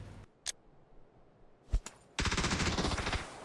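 Gunfire in PlayerUnknown's Battlegrounds: a couple of isolated sharp shots, then a sustained loud burst of rapid automatic fire that runs to the end.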